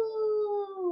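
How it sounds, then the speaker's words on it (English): A single sustained dog howl, close and clear, holding a steady tone that slowly slides downward for about a second. "How about Drizzle Thing howls and we follow the echo?"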